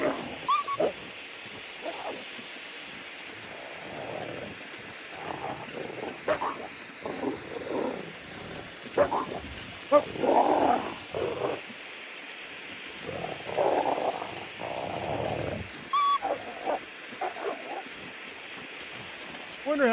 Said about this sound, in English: Because somebody had to record this, the noises for the wolves.